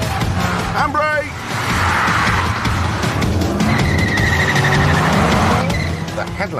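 A Ford Fiesta skids through a handbrake turn, its tires squealing loudly over the revving engine, with someone talking over it.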